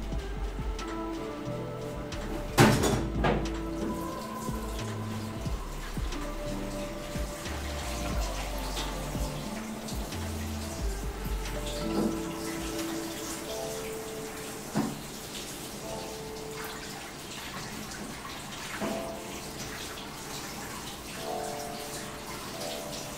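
Hot tap water running into a kitchen sink as food is rinsed during Italian cooking, a steady close splashing wash with occasional clatter and thumps of handling.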